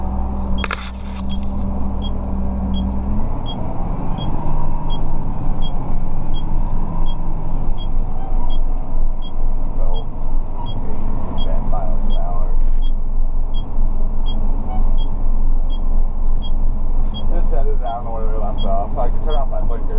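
A vehicle engine hums steadily throughout while driving, with a faint repeating tick like a turn signal and occasional speech over it.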